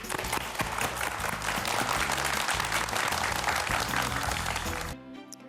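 Studio audience applause on a Korean YTN talk program, a thick sustained wash of clapping from a full room that stops abruptly near the end, fairly loud and without talk.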